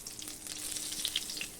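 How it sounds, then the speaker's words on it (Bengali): Cumin seeds sizzle in hot oil in a wok, a soft, steady crackling fry with light pops, faint and brief with no voices. "জিরে ফোড়ন দিলাম।"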